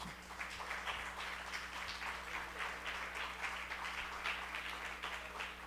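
Steady applause from a church congregation at an evening service, a dense, even wash of many hands clapping that carries on without pause over a low hum.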